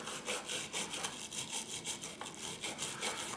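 A stiff brush scrubs freshly soldered joints on a small circuit board, quick rhythmic back-and-forth rasping strokes, close and fairly faint, with no talking.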